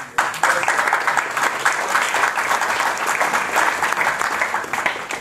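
A live audience applauds steadily at a formal speech in French, the dense clapping holding loud and even for about five seconds without a voice over it.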